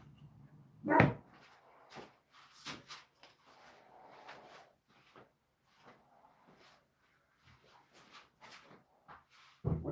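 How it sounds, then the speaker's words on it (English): A dog barks in a home woodworking shop where a redwood fence board is being sanded into a jewelry box: one sharp, close bark, then scattered softer barks and knocks, and a final loud bark at the end. "What are you barking at, dude?"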